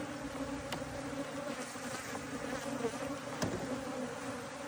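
A steady, dense buzzing of many honey bees around a hive, a constant humming drone with no talking over it.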